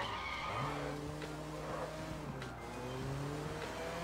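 Tyres squeal and skid continuously under a revving engine in the Sleeping Dogs video game, fairly faint and steady with no speech.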